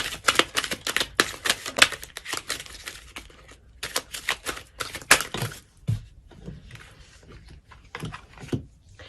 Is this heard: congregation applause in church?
no